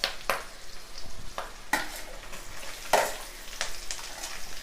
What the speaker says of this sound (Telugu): పచ్చిమిర్చి ఎండుమిర్చి వేగాక ఉల్లిపాయ కరివేపాకు వేసుకుందాం